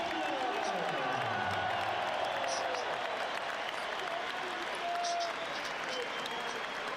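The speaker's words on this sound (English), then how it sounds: "Sunderland fans applauding" Sunderland fans applaud at a football match against Everton, a broad, distant wash of crowd clapping and murmur that holds steady throughout, with a voice talking faintly underneath.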